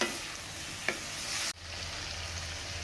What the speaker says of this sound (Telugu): కొంచెం మంచిగా నూనెలో మగ్గాలి.